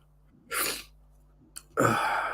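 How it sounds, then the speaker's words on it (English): A man sneezes twice in quick succession, the second burst louder and longer, with a breathy, sniffly edge and quiet room stillness in between. "snivelling and sniffling"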